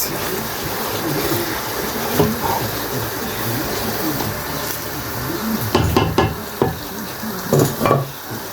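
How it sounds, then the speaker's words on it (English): Fish in tomato sauce and sunflower oil gets stirred in a pot over a fire, with a steady bubbling sizzle under a run of spoon scrapes and knocks that grow busier toward the end. "So I just added the one in sunflower oil. Okay, so I'll just stir it."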